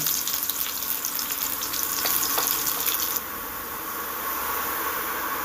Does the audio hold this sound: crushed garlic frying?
yes